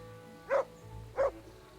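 A dog companion in Kingdom Come: Deliverance gives two short, clear barks about half a second apart over quiet game ambience, fairly close and unaccompanied by speech.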